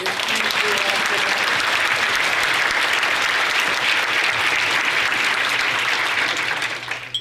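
A large audience at a women's breakfast event applauds loudly and continuously, a thick, sustained wash of clapping with no pauses throughout.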